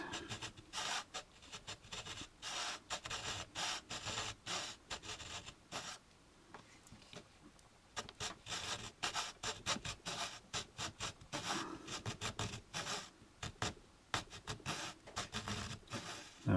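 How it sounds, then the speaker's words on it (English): A hobby saw cuts a notch in the plastic of an AMT U.S.S. Enterprise model kit, giving a close, rapid, rhythmic rasp of back-and-forth strokes with a brief pause midway. "And then we're going to take our saw and go this way, flat,"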